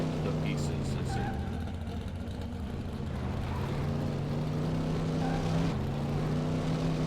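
Car engines hum steadily in the Cars Mater-National video game, a continuous droning motor tone with pitch shifts, with some background noise alongside.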